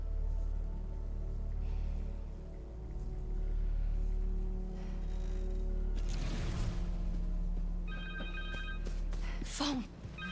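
A cell phone ringing in Marvel's Spider-Man 2, a repeated electronic ringtone entering late over a low game soundscape and a whooshing pass, moderately loud and close.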